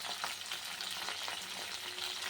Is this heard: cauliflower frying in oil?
yes